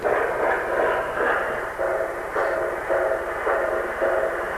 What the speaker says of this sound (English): our diesel version of ProtoSounds contains actual diesel recordings